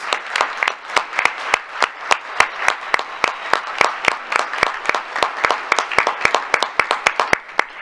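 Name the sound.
audience applause for high school chorus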